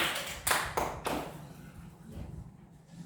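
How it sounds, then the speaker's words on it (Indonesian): A primary school class claps briefly in a classroom, a few sharp claps fading quickly into a quiet room murmur. "kita berikan aplaus untuk jawaban dari kelompok 2 untuk diskusinya"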